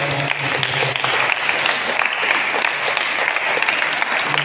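An audience at a church service on the first Sunday of Lent applauds the organisers, a dense, steady burst of clapping from many hands throughout.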